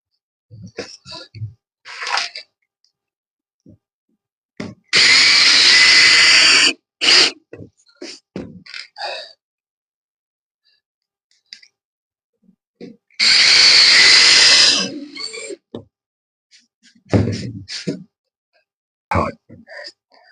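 A power drill drives 25 mm screws into a plywood floor in a Renault Master camper van, with two long, loud whirring bursts and a few shorter ones set among quiet handling noises and a little speech.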